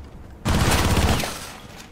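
A single loud, close shotgun blast in Rainbow Six Siege bursts out suddenly and rumbles away over about a second and a half.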